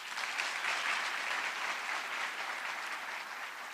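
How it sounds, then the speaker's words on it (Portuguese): A lecture audience applauds retirees, with dense, steady clapping from many hands that stays even and moderately distant throughout, with no voices. "Uma salva de palmas para esses aposentados."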